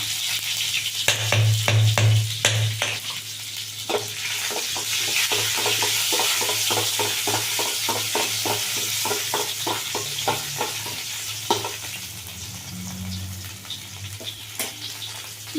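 Curry leaves and garlic sizzle and fry in hot oil in a pan, with a steady crackling hiss and repeated stirring clicks and scrapes throughout, close and fairly loud.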